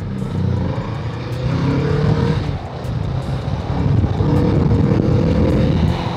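A big bike motorcycle with a stock exhaust accelerates, a loud, sustained engine roar that rises and holds for several seconds, up close and without speech.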